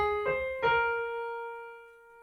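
A few keyboard notes from a slow piano lesson phrase, two struck close together near the start and then left to sustain and fade, clear and solo with no voice over them.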